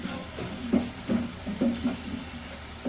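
Onion and green chillies sizzle in a hot pan over spice masala in a village kitchen, a continuous hiss with a few soft clinks of the pan and spoon, and no talking.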